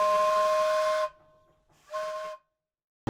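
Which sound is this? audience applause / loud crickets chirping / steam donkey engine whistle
steam donkey engine whistle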